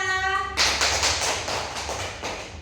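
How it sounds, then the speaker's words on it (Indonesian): Children clapping their hands in a classroom after a quiz, a burst of sharp, close, rhythmic claps that follows a brief tonal chime and continues steadily to the end. "Tepuk tangan untuk kita."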